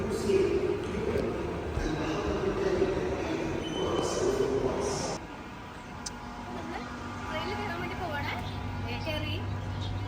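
A metro train rumbles and hums inside the carriage, with a brief whine and a drop in noise midway, then a steady low drone; voices murmur in the background.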